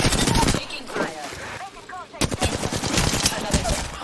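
Bursts of rapid automatic gunfire in a video game firefight crackle loudly at the start and again in the second half, with a quieter stretch between where a player's voice talks.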